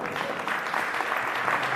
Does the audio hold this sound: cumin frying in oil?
no